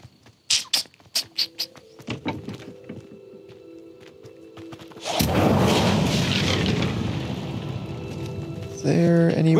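Casting the Incendio fire spell in Hogwarts Legacy: a run of quick thumps and pattering hits gives way to a sudden loud, roaring burst of flame that sustains for several seconds, then a brighter tonal flourish at the end.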